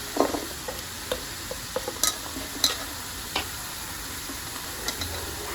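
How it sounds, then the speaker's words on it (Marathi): Pea pods are gently stirred in a reddish masala paste with goda masala and kasuri methi, soft scraping clicks at irregular intervals over a faint low sizzle. "आणि त्या लालसर पेस्ट फिरवत राहायचं, थोडं फिरवायचं, कारण त्या शेंगा फुटल्या नाही पाहिजे"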